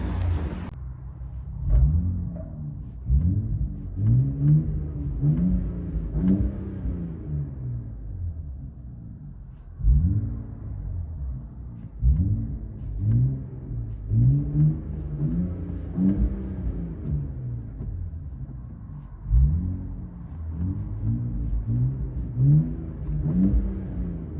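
A 2025 RAM 1500 with a 3.0L twin-turbo Hurricane inline-six and straight-piped exhaust revs repeatedly, heard from inside the cab: a muffled, deep droning rumble rising and falling in several rev bursts over about 24 seconds.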